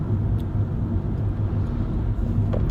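Steady low road rumble from inside a moving car, a continuous engine and tire drone without pauses.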